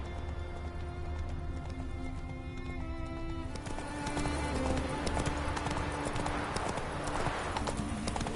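Roach, a horse in the video game Witcher 3, gallops along in a rapid, even run of hoof clip-clops, loud and close, growing busier partway through over a low game background.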